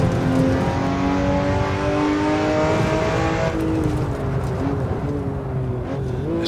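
Car engine in the racing game Assetto Corsa, driving through the Bannochbrae village track: a loud, steady engine drone whose pitch rises and falls as the revs change through tight turns.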